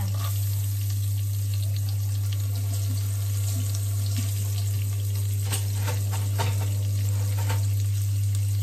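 Garlic fries in butter in a pan with a continuous crackling sizzle and occasional stirring taps, all over a strong steady low hum.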